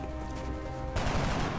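Gunfire from the video game XCOM Enemy Unknown erupts partway through as a sharp, loud burst of shots after a calmer tonal stretch.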